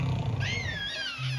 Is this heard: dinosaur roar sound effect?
yes